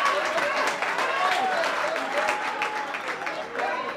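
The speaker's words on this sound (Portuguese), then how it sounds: "Uma grande salva de palmas para ele, faz favor" An audience at a comedy roast show applauds a comedian, a dense, steady clapping from a crowd over four seconds with a voice faintly underneath.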